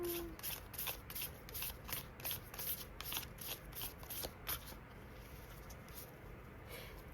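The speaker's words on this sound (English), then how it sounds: "I'll shuffle these for you with the intention of a card that will make you feel warm" A deck of tarot cards being shuffled by hand, a quick run of crisp riffling flutters in a steady rhythm that fades into softer sliding near the end.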